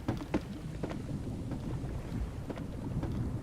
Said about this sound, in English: And now the game wants to rain again.